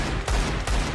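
Two loud gunshots from Counter-Strike, close and punchy, with a low-end boom after each and a short gap between them.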